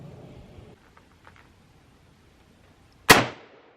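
A single sharp, loud rifle shot from a .338 Weatherby RPM fitted with a factory muzzle brake, fired at a 10-yard range, cracks suddenly after near-silence and decays quickly.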